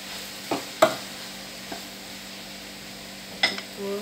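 Cooked pasta is stirred in a pan, giving a few soft scrapes and light clinks of the utensil against the pan over a quiet background hum, with no one speaking.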